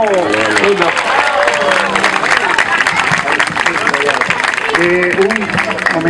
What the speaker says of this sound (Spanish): También le reiteramos el aplauso y cariño a Rafa.